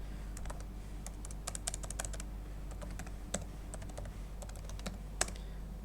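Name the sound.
typing commands on a computer keyboard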